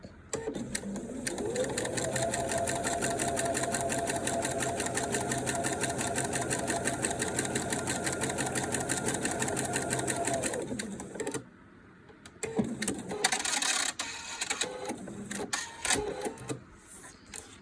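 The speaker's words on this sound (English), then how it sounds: "We're just going to sew a straight line between that A1 and A2 block." Sewing machine running a continuous straight stitch through paper to perforate it for foundation-pieced quilt blocks, a steady rapid mechanical whir of about ten seconds, then a pause and brief bursts of handling noise.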